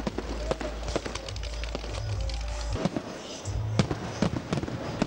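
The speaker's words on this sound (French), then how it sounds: "Les manifestations se sont poursuivies en soirée avec le spectacle des feux d'artifice" A seaside boulevard fireworks display on the evening of the Gabon football cup final: repeated sharp bangs and crackles, some near and some farther off, over a low rumbling crowd ambience.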